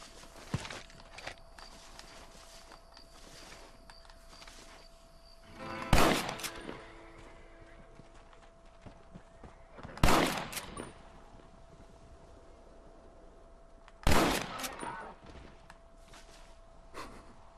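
Three loud gunshots in the Red Dead Redemption video game, spaced about four seconds apart, each ringing out over a low background of in-game footsteps and ambience.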